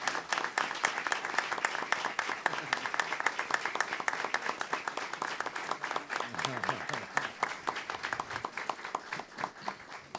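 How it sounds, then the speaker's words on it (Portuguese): Audience at a solemn ceremony awarding the Tiradentes Medal applauds an honoured woman, a steady wash of many hands clapping close and loud for about ten seconds, with a faint voice briefly underneath. "eu peço uma salva de palmas muito forte para essa senhora"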